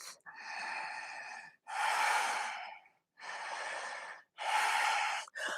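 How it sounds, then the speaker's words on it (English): Deep, even breaths are taken in a yoga downward facing dog pose, four long airy inhales and exhales alternating in a steady rhythm, close and clear with brief silent gaps between them. "Taking 3 breaths here, just to steady out the rhythm of the breath."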